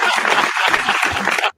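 A burst of enthusiastic applause from a crowd, dense and loud throughout, cutting off abruptly at the end.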